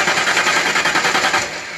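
A 5.0L Mustang engine cranking during an ignition coil test, a fast rhythmic chugging of the starter turning the motor over, loud and close, with no talking.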